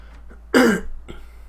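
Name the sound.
coughing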